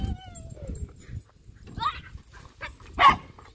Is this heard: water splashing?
no